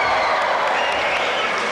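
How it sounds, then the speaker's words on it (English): A big crowd at a 1983 NBL basketball game between the Newcastle Falcons and West Adelaide Bearcats keeps up a dense, continuous roar of applause and noise with no letup. "The big crowd here."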